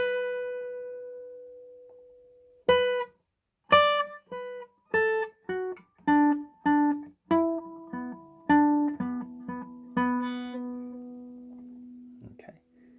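Guitar playing the riff of a song with a groove: a held note, then a rhythmic series of short plucked notes and muted strums, clear and close, played alone.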